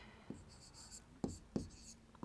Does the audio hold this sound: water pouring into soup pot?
no